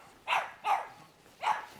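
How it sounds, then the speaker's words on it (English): A small French bulldog barks four times in a steady rhythm, each bark short and fairly loud, close by outdoors in a hilly suburban neighbourhood. "He's only a tiny little thing, but gee, he's got a bit of a bark on him."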